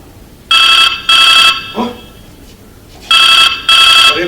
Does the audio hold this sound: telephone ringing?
yes